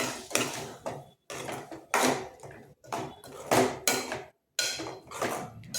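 A spoon scrapes and knocks in a pan as coconut paste is stirred into a white vegetable kurma, loud rhythmic bursts of clattering separated by brief pauses.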